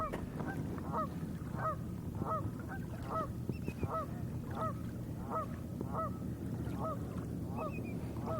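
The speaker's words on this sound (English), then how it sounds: "the geese are so loud" A flock of geese honks over and over at a steady pace, loud and nearby, with a constant low background wash of lake water beneath the calls at Lake Ray Roberts.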